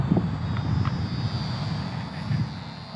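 FMS PA-18 Super Cub micro RC plane with a brushed electric motor flying low overhead, a steady thin whirring drone with a faint high whine, fairly constant in level throughout.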